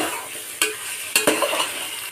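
Chicken curry masala stirred in a pan over a constant sizzle, with sharp scraping strokes of the spoon against the metal at irregular intervals, close and clear and without talk.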